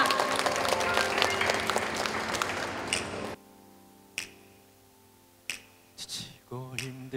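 Audience at a lunch concert claps densely for about three seconds over musical tones, then the clapping cuts off, leaving a quieter room with a few scattered sounds.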